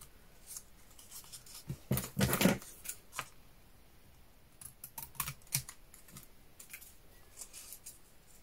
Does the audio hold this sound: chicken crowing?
no